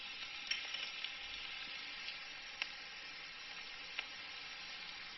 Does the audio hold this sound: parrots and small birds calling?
no